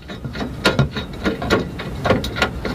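A bolt threads into a shelf bracket inside a Ford Transit Connect van, giving a series of close, irregular metallic clicks and scrapes in quick bursts, with no talking.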